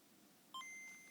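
Game Boy Color startup chime, a brief high two-note electronic ping that rings out alone over a quiet background.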